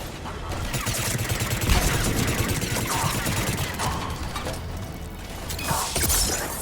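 Explosions and heavy gunfire in the video game Mass Effect 3 during a firefight, with a grenade blast, a dense, loud, continuous barrage of shots and crashing impacts throughout.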